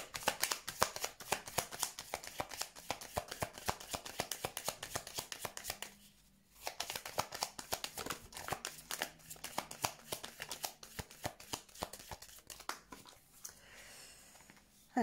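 Tarot cards are shuffled over and over, a dense run of quick riffling flutters close up with a brief pause midway, soft and steady throughout.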